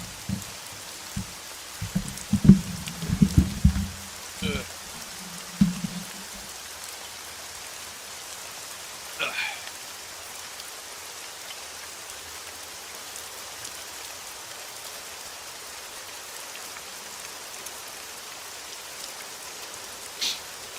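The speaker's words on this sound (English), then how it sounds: "starting to get a little tired of the rain sounds." Soft, steady rain falling on a surface as a quiet ambient bed, with a few brief muffled knocks and clicks early on, then an even hiss throughout.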